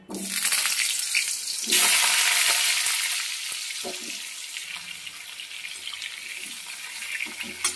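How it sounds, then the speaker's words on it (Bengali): Pumpkin pieces frying in hot oil in a home kitchen, a steady broadband sizzle that stays loud and close throughout with a brief surge near the start, no voices over it. "এবার কুমড়োটা ভেজে নেব।"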